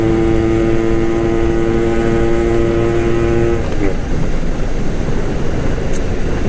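A Suzuki Max 100 motorcycle rides in third gear, its engine holding a steady tonal drone that shifts partway through into a rougher, broadband rush of road and wind noise, loud and continuous with no talking.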